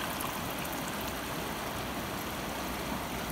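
Water from a five-unit jug pours into a three-unit jug for a jug-measuring puzzle, a steady unbroken splashing rush that lasts throughout, fairly loud and with no voices over it.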